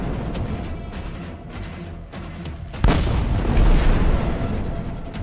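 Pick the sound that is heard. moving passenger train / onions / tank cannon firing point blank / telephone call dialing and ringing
tank cannon firing point blank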